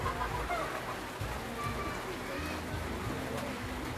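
Rain falls steadily in cold weather, a dense even hiss that fills the whole stretch without pauses.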